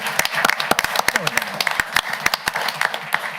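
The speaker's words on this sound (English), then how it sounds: "Round of applause, everybody." A county council meeting room fills with a round of applause, a dense, lively patter of many hands clapping close by, with voices murmuring and talking underneath.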